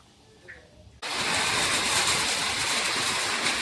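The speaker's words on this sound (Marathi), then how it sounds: "पाणी वतून घेते, रस्सा करायचा आहे" Water is poured into a pot of river fish curry to make the gravy, a sudden loud, steady gush that begins abruptly and continues without a break, following a quiet moment with a faint click.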